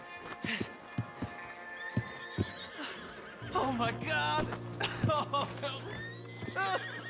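Horses in Red Dead Redemption 2 whinny loudly in rising and falling calls, mixed with clopping hooves and footsteps, while a voice exclaims over the neighing.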